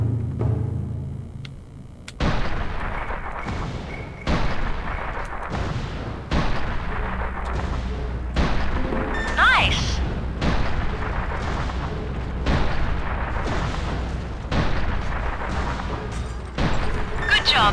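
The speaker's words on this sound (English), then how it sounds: "use these artillery cannons to destroy" Heavy artillery cannons in the video game Mercenaries boom repeatedly at roughly one-to-two-second intervals, each blast loud and close with a rumbling decay, over a continuous low battlefield drone.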